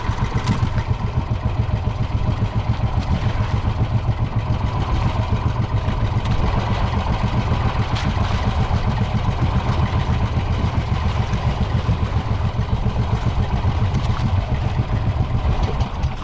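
An outboard boat engine runs steadily throughout at a moderate distance, a continuous rough, clattering mechanical drone with no pauses.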